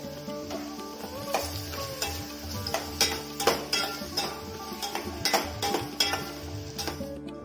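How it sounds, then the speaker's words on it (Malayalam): Onions sautéing with salt in a pan for a pumpkin curry, stirred steadily, with a continuous close sizzle and frequent utensil scrapes and clinks against the pan. "സവാളയൊക്കെ നല്ലതുപോലെ ഒന്ന് വഴറ്റിയെടുക്കാം നമുക്ക് ഇതിലേക്ക് കുറച്ച് ഉപ്പ് കൂടി ചേർത്ത് ഒന്ന് വഴറ്റിയെടുക്കാം"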